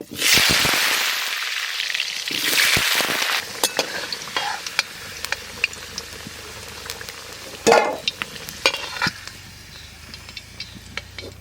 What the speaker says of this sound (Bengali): তেল গরম হয়ে গেছে আলু ভাজি নেবো